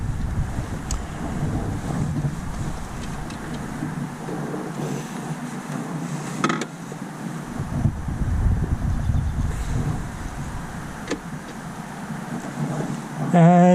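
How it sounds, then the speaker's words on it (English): A BMW R1250RT motorcycle's boxer engine runs steadily on a city street, its low rumble partly buried under heavy wind noise across the microphone. "the beautiful sound of the Boxer"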